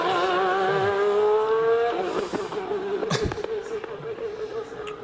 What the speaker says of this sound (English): the engine wasn't running smoothly at all